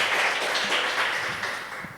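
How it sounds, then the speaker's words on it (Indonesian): Applause from an audience after a speaker at a morning inspiration session, with steady, dense clapping heard at a moderate distance that fades slightly toward the end. "Sekali lagi tepuk tangan untuk pembicara kita yang luar biasa hari ini."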